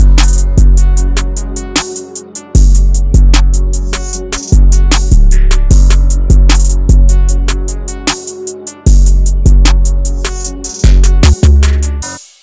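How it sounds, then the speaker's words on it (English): Extra counter snares from a drum kit crack through a loud, busy hard ambient FL Studio beat, snapping between booming kicks over a sustained melody, with no voices. "And then lastly, I just added some counter snares right here on my drum kit"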